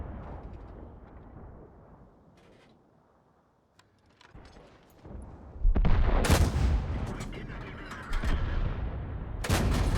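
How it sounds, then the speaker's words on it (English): Tank cannon shots in World of Tanks from a Covenanter: after a quiet stretch, loud booming blasts land around the middle and again near the end, layered over rumbling battle noise. "There's a shot into the side of him."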